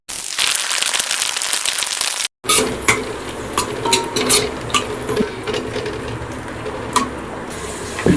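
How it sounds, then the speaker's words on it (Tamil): Tomatoes tipped into a cooking pot and stirred for a prawn paruppu kulambu: a brief gap, then clattering utensil scrapes and knocks against the pot over a sizzling bed, close and fairly loud. "தக்காளியை போட்டுருவோம்."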